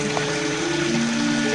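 Water pours steadily from a spring on the edge of the Brantas river in Kediri, a constant loud rushing wash with a faint steady hum underneath, close and unbroken.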